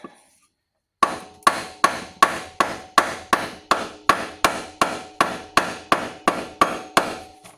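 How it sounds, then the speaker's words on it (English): A piece of wood used to tap a power steering part into place on a 2007 Cadillac Escalade, about sixteen sharp, evenly spaced knocks after a second of silence, close and loud. "Got this piece of wood here. I just give it a little tap."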